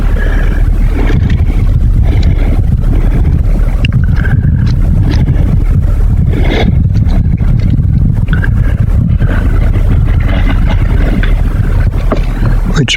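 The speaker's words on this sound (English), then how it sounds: "Here I am, getting in the truck. Let her idle along here till all the slack's out of the rope." A truck engine idling while it takes up the slack in a pulling rope outdoors: a loud continuous low rumble throughout, with heavy wind buffeting the microphone and no speech.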